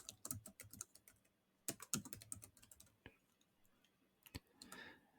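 Computer keyboard typing clicks in quick bursts of keystrokes, close and quiet, with short pauses between runs.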